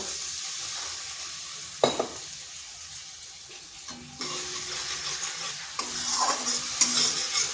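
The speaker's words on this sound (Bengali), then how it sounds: "মশলাটাকে ভালো করে কষিয়ে নিচ্ছি" Spice paste for a lentil dumpling curry is sautéed and stirred in a pan with a splash of water: quiet, steady sizzling broken by a few sharp scrapes, with louder stirring toward the end.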